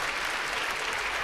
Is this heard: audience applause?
yes